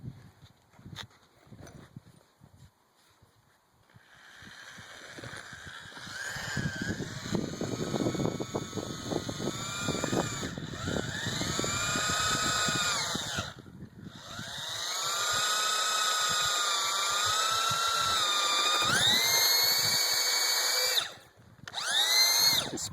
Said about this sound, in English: when you drill pretty slowly, once you get through the pipe in the wood, it doesn't matter